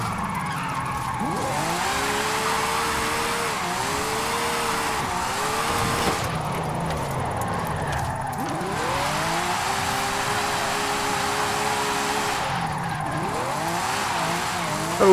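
Video-game 1987 Ferrari F40 with an AWD drift tune sliding through corners, its engine droning steadily while repeated rising revs and tire squeal swell in long waves throughout, loud and continuous with no talking.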